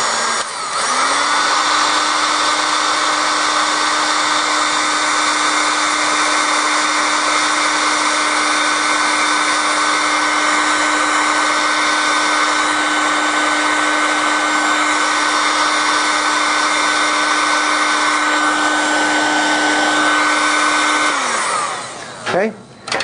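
Heat gun shrinking adhesive-lined cross-linked heat shrink tape: a loud, steady, close blower roar with a constant motor whine, switching on at the start and spinning down at the end.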